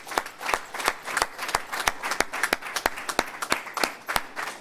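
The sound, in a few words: audience applause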